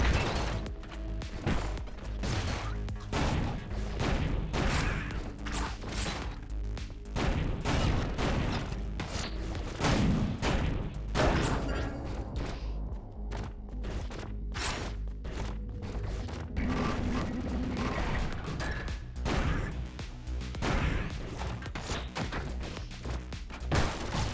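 Rapid bursts of gunfire and explosions from the sci-fi roguelike shooter Orbital Bullet, loud and continuous with crashing booms and dense combat noise throughout.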